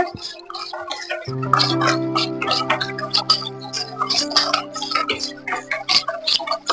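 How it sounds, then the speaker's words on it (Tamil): A spoon clicks and taps quickly against a bowl as thick batter for tea-shop kajada is stirred, over a steady low hum. "இதை நல்லா கலந்து விட்டுக்கோங்க"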